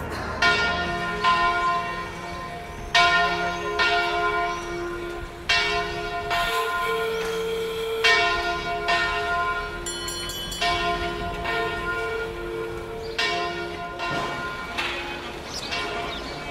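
Church bells of the Gothic cathedral of Burgos ring in repeated strikes about every second or two, with long humming overtones and a second bell chiming in between, loud and close with no speech.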